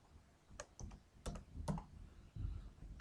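Keys tapped on a computer keyboard in short irregular clicks and small bursts, close and fairly quiet, with no one talking.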